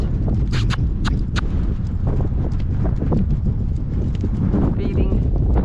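A horse trotting outdoors during a gale-force wind storm, hooves clip-clopping in a steady rhythm under constant wind noise, with a few sharper hoof strikes standing out near the start.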